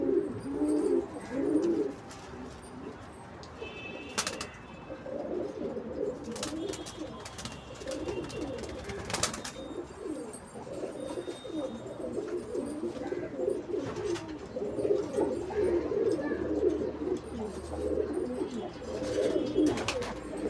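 Paired Kalanka pigeons, kept as a hobby flock in a home loft, coo continuously in low throaty rolling phrases, close and steady over the full stretch, with a few sharp clicks and faint chirps in the background.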